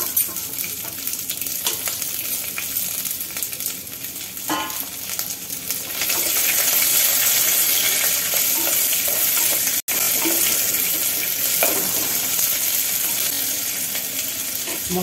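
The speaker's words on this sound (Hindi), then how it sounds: "कटा प्याज दे दउछि।" Chopped onion hits hot oil in a clay pot and is stirred, loud close sizzling that swells after a few seconds, with scraping stirs and one sharp knock midway, no voices.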